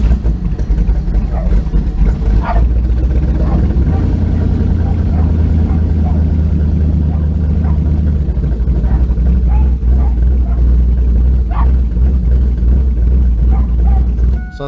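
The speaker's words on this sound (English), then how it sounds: "When you start the car and let it run" A car engine running on E85 fuel idles with a steady, loud low rumble throughout, close by, with faint occasional sounds above it.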